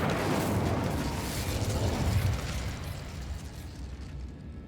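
Incendio fire spell cast in the video game Hogwarts Legacy, a roaring, rumbling burst of flame that swells loud and then slowly fades, with no talk over it.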